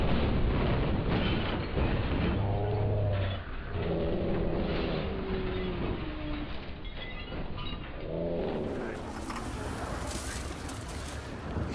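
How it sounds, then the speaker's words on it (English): A train rumbles past loudly and steadily in Grand Theft Auto V, with game effects and a brief voice mixed in. "Beat the train, man!"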